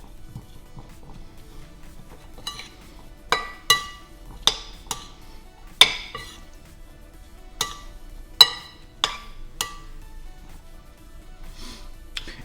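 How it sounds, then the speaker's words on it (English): Stir-fry vegetables are tossed in a pan, giving a series of sharp, evenly spaced utensil clinks against the metal over a quiet background. "I just want to give this a nice quick stir"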